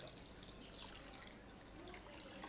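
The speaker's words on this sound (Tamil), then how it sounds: "1 கப்பு சர்க்கரைக்கு நம்ம 1 கப்பு தண்ணி சேர்த்துக்கலாம்." Water being poured into sugar in a kitchen to make sugar syrup, a soft steady trickling stream, faint and close, with no talking.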